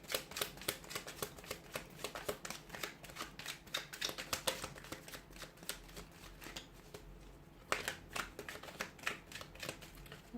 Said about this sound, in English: Let's give the cards a shuffle and see what messages they have for you here.